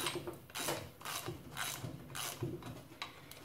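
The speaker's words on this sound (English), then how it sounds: "So now we can tighten those up again." Ratcheting clicks from a wrench tightening motorcycle sprocket bolts, quiet bursts of rapid pawl clicks in a steady repeating rhythm, close up with no talk.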